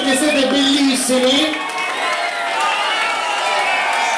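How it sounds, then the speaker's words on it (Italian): A nightclub crowd cheers and claps loudly, with shouts and whoops riding over a continuous dense roar of applause. "Stasera facciamoci un bel applauso perché siete bellissimi."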